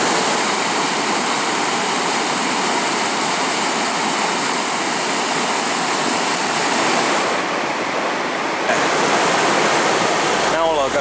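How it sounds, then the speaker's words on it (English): The Colorado River rushing at the bottom of the Grand Canyon, a loud, steady broadband roar of flowing water heard close by throughout, with a brief shift in texture near the end. "That there's the Colorado River, and this is the bottom of Grand Canyon."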